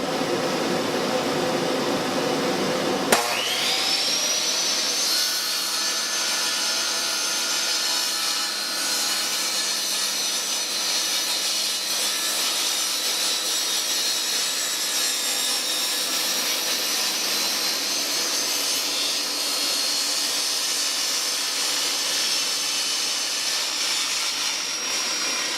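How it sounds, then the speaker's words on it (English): Bandsaw cutting wood for a small holiday gift piece, a steady, loud, high whining buzz that starts abruptly after a few seconds and drones on continuously, with no talking. "because we're going to cut the outside shape using the bandsaw"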